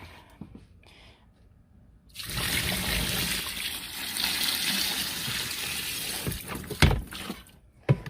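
Water pours steadily into a Best Choice mini portable washer for several seconds with a splashing, gurgling rush, starting abruptly after a quiet moment and ending with a few clunks.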